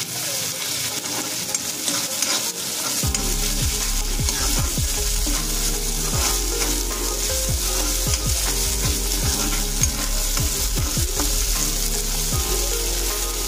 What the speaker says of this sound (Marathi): तर आता आपण आहे ना आलं, लसूण आणि मिरची ह्याची पेस्ट टाकून घेऊया। ती चांगली मिक्स करून घेऊया तेलामध्ये फ्राय करून।